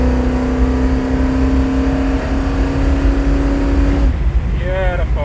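A car with a Holley/Quickfuel carburetor accelerates hard, its engine droning steadily loud and near under a voice, then rising in pitch as it revs toward the end.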